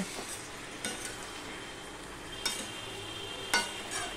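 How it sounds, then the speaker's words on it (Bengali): Hilsa fish head is mixed with Malabar spinach in a pan, making a quiet, steady sizzle with a few sharp utensil clicks against the pan and no talking. "এবার আমি সম্পূর্ণটা সবজির সাথে ভালো করে মিশিয়ে নেব।"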